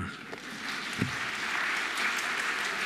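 An indoor audience at an autism good-practice event applauds, a steady wash of clapping that holds for a few seconds at moderate distance, with no voices over it.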